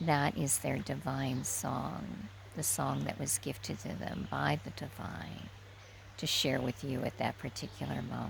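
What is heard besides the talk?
No everyday noises stand out.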